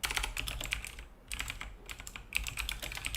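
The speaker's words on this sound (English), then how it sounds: "Okay, so you hear me typing up." Fingers tapping a computer keyboard in quick, uneven bursts with a brief pause partway, quiet and close, with no one speaking.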